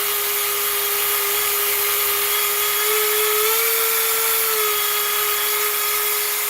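A Dremel rotary tool runs steadily and loud on its own, a high whine holding pitch with a slight wobble midway, sounding a little off.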